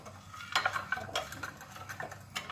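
A spoon stirs sugar, yeast and oil together in a bowl for butter roll bread dough, producing quick, close clinking and scraping strokes in an uneven rhythm.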